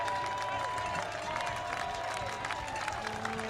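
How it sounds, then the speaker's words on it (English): Baseball fans at an Oakland Ballers game give a scattered, distant round of applause that rolls steadily for a few seconds, with a faint crowd murmur beneath. "and a ground out receives a nice applause from these fans"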